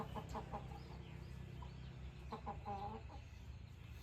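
Several soft clucks and short murmuring calls from young hens scattered over a steady low hum, some clustered near the start and a busier burst toward the end.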